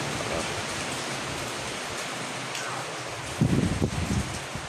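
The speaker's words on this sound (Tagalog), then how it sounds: "ganyan ang bayo ng hangin dito." Constant broadband roar of strong wind, close and loud, with a sharper buffeting gust near the end; wind battering coconut trees outdoors in rainy weather.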